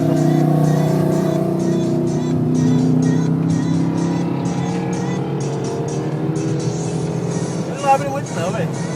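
A Ford Mustang driven fast on a race track during a track day, its engine droning loudly and steadily with shifting pitch as it accelerates, wind and road noise underneath, and a brief tire squeal near the end.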